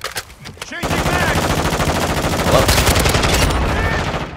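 Rapid automatic gunfire in Call of Duty: Modern Warfare II, a loud sustained burst of shots after a short pause, close and dense with echoing reports.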